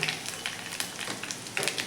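Mustard seeds, cumin and asafoetida crackling in hot oil in a wok, with a dense continuous sizzle and sharp spattering pops, close and alone.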